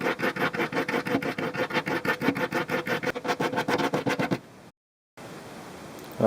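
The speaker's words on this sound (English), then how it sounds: "Now I'm going to take my file and put a very rough edge on these," A metal marking knife drawn against a hand file to rough in an edge, giving a steady run of close, even rasping strokes that stop abruptly and are followed by quieter room sound.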